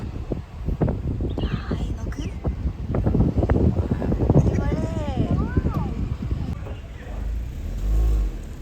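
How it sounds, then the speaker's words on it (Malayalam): A vehicle drives along a road with a low, continuous engine and road rumble and some wind buffeting, while people talk over it throughout. "അങ്ങനെ ഞങ്ങൾ വണ്ടിയിൽ കയറി മുത്തപ്പനെ കാണാൻ വേണ്ടി ഓടുക കേട്ടോ"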